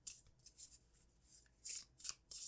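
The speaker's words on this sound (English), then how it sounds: "I'm actually going to shuffle closer to the microphone." A tarot card deck is shuffled close to a microphone, giving soft, crisp bursts of sliding and flicking cards at uneven intervals, quiet and intimate with no talking.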